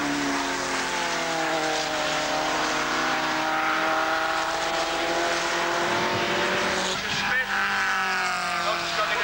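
Lotus race cars at a 1988 750 Motor Club circuit race scream past on the track, their engine notes sweeping up and down at a distance, under continuous commentary.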